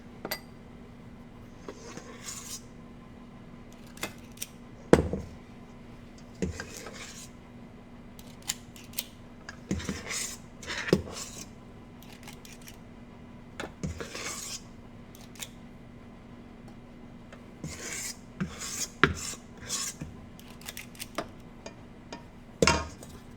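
Chocolate chip muffin batter scooped into a pan, with scattered sharp scrapes and clinks of a utensil against metal coming in irregular bursts, close by and with quiet pauses between them.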